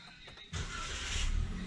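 A 2019 Toyota Avanza Veloz 1.3 automatic starts with a brief starter whir, then catches into a steady idle that swells a little, heard from inside the car.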